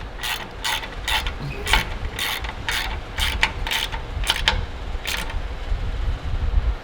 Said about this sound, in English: I'll tighten up this bracket.